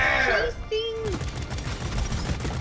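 Gunfire in Deep Rock Galactic aimed at a creature, a steady stream of rapid shots running under excited talk and a groaning creature cry near the start.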